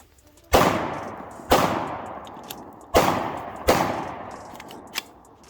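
Several guns, some new and some old, are fired one at a time. There are four loud, sharp shots at uneven intervals, each with a ringing decay, and faint clicks between them.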